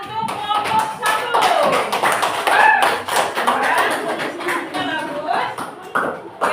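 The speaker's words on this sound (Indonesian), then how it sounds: "Tepuk tangan untuk kelompok 1." A group of people claps in applause for group 1 in a classroom, rapid uneven clapping that carries on throughout while voices are heard over it.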